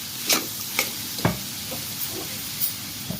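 Vegetables for spring rolls being stirred in a hot pan, with a handful of short scraping stir strokes spaced about half a second apart over a soft, steady sizzle.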